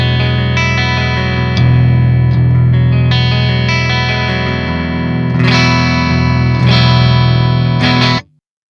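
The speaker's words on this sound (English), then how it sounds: "I really like the Fishman Alnico neck pickups for clean tones" A Schecter C8 Evil Twin multi-scale 8-string electric guitar plays a clean tone through its Fishman Alnico neck pickup. Loud sustained chords ring on with fresh strums, alone, then cut off abruptly at the end.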